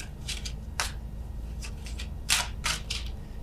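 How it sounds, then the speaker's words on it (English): Tarot cards being shuffled slowly by hand, several short papery riffles and slides spaced irregularly over a steady low hum, close and fairly quiet, no voices. "apologies for the shuffling here"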